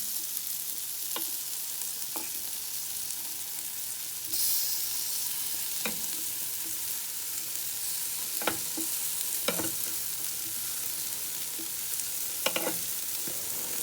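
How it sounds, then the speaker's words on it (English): Chicken wings sizzle steadily on a grill, a constant close hiss broken by occasional clicks and scrapes as the wings are turned. "So we're going to open up our grill. And we're just going to give our wings a turn."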